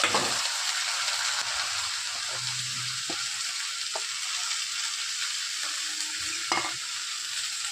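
Drumstick leaves and onion fry in a pan, a steady broad sizzle running throughout with a few soft stirring clinks and scrapes layered on top.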